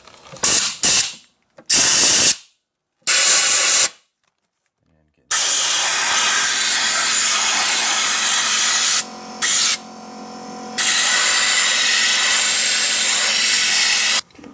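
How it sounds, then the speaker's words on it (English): Compressed air hose fed from a compressor tank blasts dirt out of the frame holes of a DeLorean in loud hissing bursts, a few short ones followed by longer sustained blasts with brief pauses between. "I've got a air hose here connected to an air compressor tank. So I'm just gonna try to air out as much of the dirt and stuff as I can."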